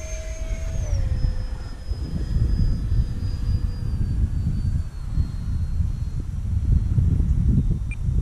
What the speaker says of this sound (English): Take off into the wind.